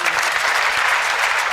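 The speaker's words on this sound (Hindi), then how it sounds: "मान सम्मान कर तालियां बजाइए" Audience clapping at a Hindi poetry recital, a steady, loud, dense wash of applause from a large crowd lasting the whole brief moment without pause.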